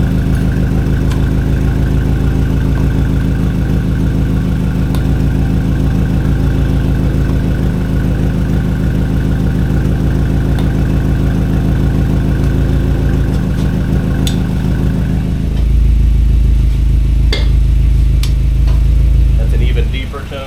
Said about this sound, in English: Next we'll do just the muffler.